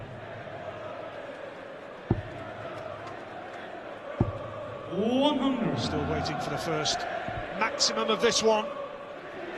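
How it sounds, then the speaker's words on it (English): Darts crowd at a Birmingham venue during a Premier League match, a low murmur under commentary that swells into loud cheering and scattered shouts and whistles midway, with two sharp thuds earlier. "Crowd in good voice here in Birmingham tonight."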